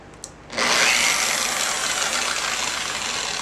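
A dual action polisher used for buffing and polishing out scratches kicks on after a short click, then holds a loud, steady motor whir close by with no talking.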